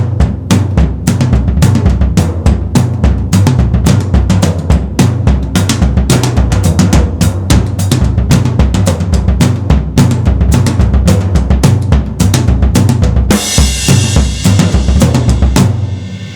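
An acoustic drum kit plays a driving jungle rhythm, with quarter notes on the hi-hat and doubled bass drum kicks between them. The hits are loud and steady, and a crashing cymbal washes in near the end.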